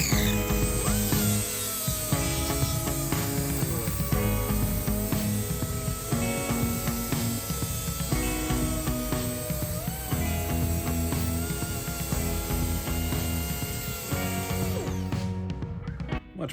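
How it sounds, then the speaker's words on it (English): Angle grinder with a finer grit disc sanding the metal of a custom truck bed, a loud continuous whining grind with fluctuating pitch as the disc works the surface, winding down at the end. "I think I'm going to hit this with a finer grit though, because that flap disc is pretty coarse."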